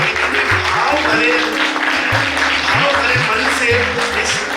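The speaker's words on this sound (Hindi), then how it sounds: "हम भरपूर तालियों से इनका स्वागत करें" Applause at a tribute event for a documentary's narrator, a continuous wash of crowd clapping mixed with a droning, repeating electronic hum and some background voices.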